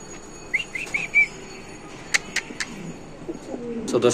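King pigeons at a bird market give a few short soft calls near the start, with another brief call midway, over a low murmur of background market noise.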